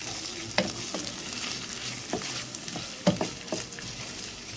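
Mustard sauce with peppers stirred in a pan for a chicken émincé, a steady low sizzle broken by several sharp scraping knocks of the spoon, close up and without voices.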